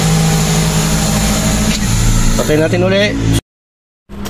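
A Toyota Altis 1.8G automatic engine runs after being restarted, a steady mid-pitched idle with some revving, a voice talking over it before the sound cuts to silence and returns briefly.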